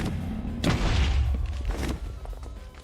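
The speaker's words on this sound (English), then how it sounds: "I'm going to make a bed explosion that is a little bit earlier" A bed exploding in Minecraft near the ender dragon: a deep booming blast with a rumbling low end, followed by a second, fainter thud about a second later.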